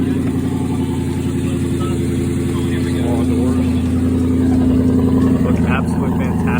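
Aston Martin V8 Vantage engine running loud and close, a steady deep V8 drone that swells slightly toward the end with a bit of revving, with no voices over it.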